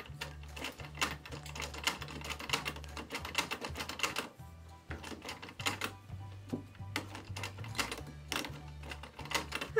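A rare blue Singer sewing machine stitches in rapid mechanical bursts, its needle clattering in a fast, rhythmic chatter that stops briefly and starts again, close and fairly loud.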